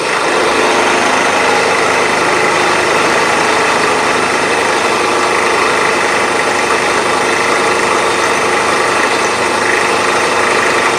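A machine tool cutting Dixson tool holder blocks at 1500 RPM gives a steady, loud, continuous whirring drone with a constant machining hiss throughout, no talk over it.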